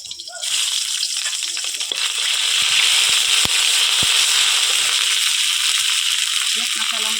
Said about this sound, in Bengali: কড়াতে দিচ্ছি তেল তেলের উপর দেবো তেজপাতা আর দেবো আদা আর জিরে একসঙ্গে বাটা